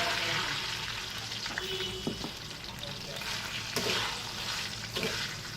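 Two cups of sugar going into makhandi halwa cooking in a pan, a continuous loud frying sizzle with stirring scrapes and occasional clanks of a spoon against metal.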